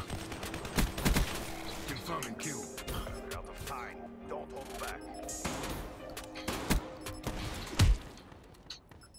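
Gunfire in Black Ops 3, sharp bursts and single shots scattered over several seconds with mechanical game effects, mixed with someone talking throughout.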